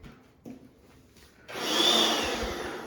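An air blower inflating a bouncy castle switches on after a few faint knocks, a loud steady whooshing roar that holds close and strong to the end.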